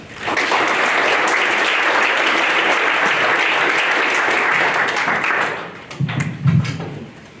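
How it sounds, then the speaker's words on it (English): An audience at a high school winter sports banquet applauds the wrestling team's managers, a dense burst of clapping that holds steady for about five seconds and then thins into a few scattered claps and thumps. "we'll give them a round of applause, please."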